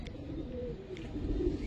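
A Giribaz pigeon coos softly and low, its murmuring call sitting under steady background noise with no talking.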